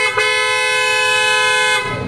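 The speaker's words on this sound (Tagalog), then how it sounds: "Parinig natin sa inyo kung gaano kalakas ang auto style PIAA horn." A loud PIAA car horn on a Honda Brio blasts in one sustained toot of about two seconds, close and piercing, with no talking.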